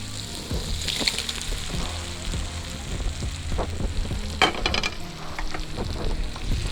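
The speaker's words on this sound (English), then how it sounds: "I'll add these prawns to the masala now." Prawns sizzle and fry in a masala, with scraping stirs and crackles rising and falling close by and no talk over the steady hiss.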